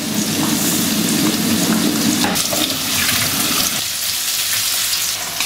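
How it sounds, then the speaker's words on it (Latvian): Rice rinsed under a running tap for pork plov, a steady close splashing and water rush that runs loud and even throughout, thinning slightly near the end. "jānoskalo rīsi"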